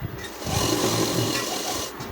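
Sewing machine running steadily as it stitches a half-inch hem on an elastic-waist trouser leg, a continuous close whirring motor drone lasting about two seconds with no talk.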